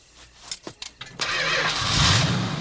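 A car engine cranks several times in short bursts, then catches and settles into a steady, loud running roar, in a scene from the horror film Friday the 13th Part VI: Jason Lives.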